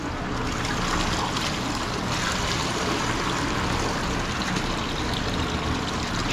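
Water pours and splashes steadily out of a plastic fish transport bag into a large aquarium at night, a continuous wash of liquid noise with no talk.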